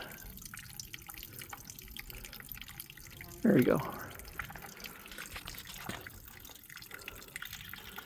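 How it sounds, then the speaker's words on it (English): Water drips from a squeezed backpacking water filter on a mountain trail, a short splashy burst of drops over a low outdoor hiss, while someone speaks briefly. "So you'll have to squeeze because the water has to go filter. It has to filter through the filter."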